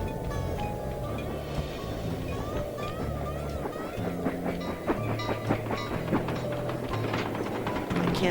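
A train rolls past in the video game Sly 2, a steady rumble with rhythmic clatter running throughout, with faint tonal game sounds layered over it.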